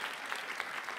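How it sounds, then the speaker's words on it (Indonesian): An audience claps loudly and steadily for the grand finalists of an environmental leadership competition, the applause filling the whole brief moment. "Sekali lagi berikan tepuk tangan yang meriah untuk kelima grand finalist kita."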